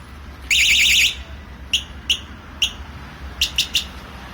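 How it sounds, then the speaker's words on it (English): A wsdcam 113 dB wireless bike alarm with vibration and motion sensor gives a loud warbling electronic siren burst for about half a second, followed by several short sharp beeps spaced apart, some in a quick triple cluster. "let's compare the noise of this alarm"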